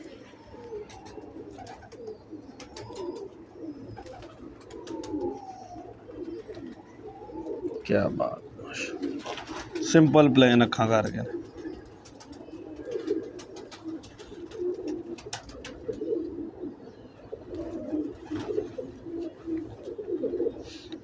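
Breeder pigeons coo repeatedly in a loft, soft throaty calls throughout with a louder burst of cooing and flapping in the middle, while people talk over them.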